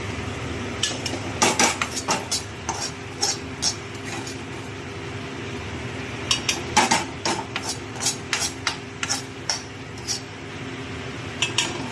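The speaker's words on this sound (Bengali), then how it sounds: "চালটা দিয়ে দিয়েছি, কষিয়ে টষিয়ে একটু নাড়াচাড়া দেবো" Khichuri rice being stirred in a pot, with repeated metal spoon scrapes and clinks against the pot in irregular bursts, close and fairly loud, with no talking.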